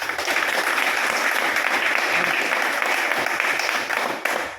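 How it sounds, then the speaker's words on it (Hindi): An audience at a business marketing seminar applauds loudly with dense, sustained clapping that holds steady throughout and fades slightly near the end. "एक बार ताली हो जाइए इनकी"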